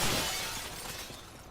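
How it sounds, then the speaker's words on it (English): Glass shatters in a Resident Evil 5 game scene, a bright crash of breaking panes that opens loudly and trails off into a fading scatter of fragments, with no voices. "We may have to break the glass to get out."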